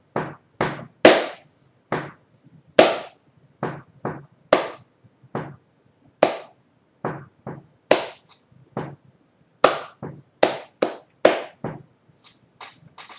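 Sharp hand claps ring out alone in an uneven rhythmic pattern, single and doubled strikes spaced with short pauses, close and fairly loud, sketching a percussion groove with repeats.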